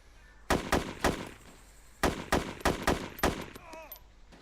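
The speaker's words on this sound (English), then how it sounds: "I hear shots." Sharp gunshots crack in Arma 2, fired in quick pairs and short bursts with gaps between, loud and close over a quiet background, followed by faint whistling effects.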